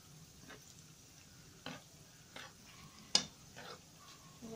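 Donuts sizzling in hot oil while being turned, with soft steady frying hiss and several sharp clinks and scrapes of a utensil at irregular moments, close and fairly quiet.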